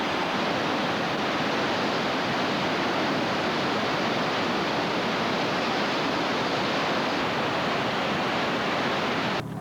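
The Betsiamites river rapids roar as a dense, steady wash of rushing water. It is loud and unbroken, with no voices.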